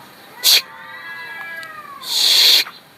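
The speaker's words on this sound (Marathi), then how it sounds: "इकडं मांजरा वरडायला लागली" Cats yowling in long wavering cries that overlap, broken by two short loud hissing bursts, close and fairly loud.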